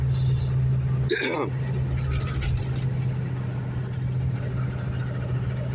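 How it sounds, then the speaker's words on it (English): A Class A truck engine holds a steady 1800 RPM with a constant low drone and hum in the cab, while someone talks over it. "He wants that engine run at 1800 RPMs, so that's what we're gonna do right there."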